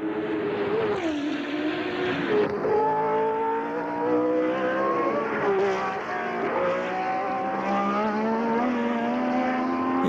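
Racing cars, including Lotuses, in a motor race, a loud engine roar with rising and falling pitch as cars shift gears and pass, continuous and fairly close, no talk.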